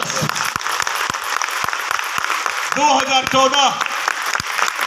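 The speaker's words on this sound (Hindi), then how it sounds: "मैं चाहूंगा एक बार जबरदस्त ताली बजाते।" Applause from a live audience at an event in a hotel hall, dense and steady throughout, with a voice speaking over it and a brief vocal sound near the middle.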